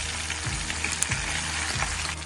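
Fish frying in oil in a pan, a steady dense sizzle with crackling spits and a few soft scraping stirs, close and continuous throughout.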